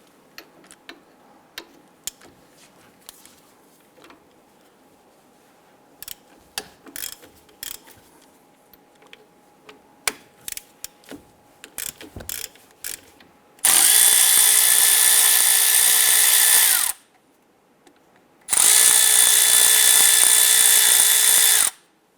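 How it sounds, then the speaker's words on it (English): Socket work on the brake caliper bolts of a 2008-2013 Nissan Rogue: irregular ratcheting clicks and metallic taps at first, then two loud sustained bursts from a power tool spinning the 14mm bolts out. "Using a 14mm socket, let's go ahead, loosen and remove these two caliper bolts."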